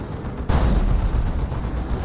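Militia cannon firing in the Dawn of War 2 strategy video game: a single sudden loud blast about halfway through, followed by a sustained rumbling roar of battle noise, with no talk.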